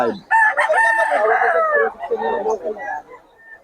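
A rooster crows loudly and close by at a busy Bocaue poultry market, one long drawn-out call followed by shorter clucks and fowl noises, with people talking in the background.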